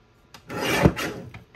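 A paper trimmer blade slices through card stock for a Christmas card kit, giving one close, short rasping cut that swells and fades within about a second.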